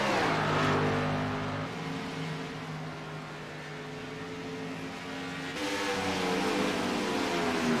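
Race cars roar around a track during a stock car race, several engines layered in a steady loud drone with rising and falling pitch as the pack passes, swelling again near the end.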